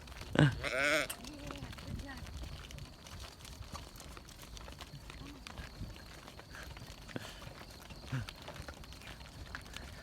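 A ram on a dairy sheep farm gives a loud bleat near the start, followed by quieter grazing and outdoor sounds, with a person talking at intervals.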